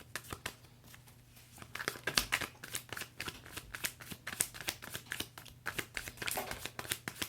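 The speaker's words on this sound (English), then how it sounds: "I am the person who shuffles until something falls out" Tarot cards are shuffled quickly and steadily, a dense run of crisp riffling flicks and papery slaps, close up and fairly quiet, with no talking.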